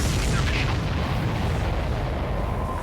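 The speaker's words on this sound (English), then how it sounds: "Missile hit the supply ship dead on." A missile explosion strikes a supply ship in the video game Ace Combat 7, a heavy, sustained rumbling boom with deep low-end roar that stays dense and loud for the whole moment.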